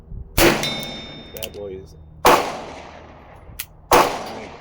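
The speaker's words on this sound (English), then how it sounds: "I'm shooting out there to about 20 yards." A 40-year-old Ruger GP100 revolver fires three loud, sharp shots outdoors at about 20 yards, each a sudden crack with a decaying ring, spaced roughly two seconds apart, with brief speech between shots.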